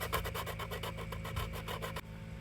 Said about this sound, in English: Back with a sanding stick or something and just get the edges.